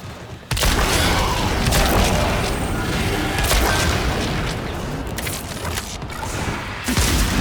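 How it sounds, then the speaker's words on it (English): A security eye destroys a pendulum in Warframe, a sudden loud boom that opens into a sustained, dense rumbling roar of destruction, with a few sharper cracks and pops scattered through it and a fresh burst near the end. "The security eye just destroyed a pendulum."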